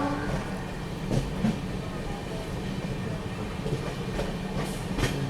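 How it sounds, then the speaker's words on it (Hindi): The Vivek Express, the Dibrugarh–Kanyakumari train, draws near. A low, continuous rumble of rolling wagons carries faint clickety-clack rail knocks at scattered moments, at a moderate and fairly even level. "सामने से लग रहा है ये आ रही है विवेक एक्सप्रेस, इंडिया की लॉन्गेस्ट रनिंग ट्रेन।"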